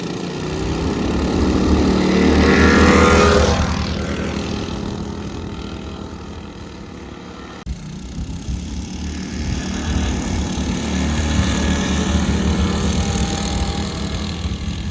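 Two small engines, a Wildcat 223 and a Predator 224, race on identical Trailmaster go-karts, making a loud, steady buzzing drone that swells as the karts pass close, then settles into a continuous nearer rumble.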